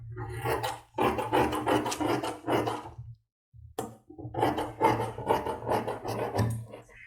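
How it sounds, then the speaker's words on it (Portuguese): Fabric being cut with scissors close along the edge of a paper sewing pattern for a shirt dress, a steady run of rasping snips in two long bursts separated by a short pause. "agora é só recortar. Vou cortando aqui bem rente com a borda do molde"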